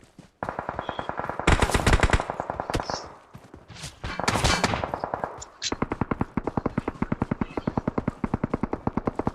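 Rapid automatic gunfire rattles through an online shooter game, long bursts of loud, close shots with brief pauses and a few single pops between them, without talking.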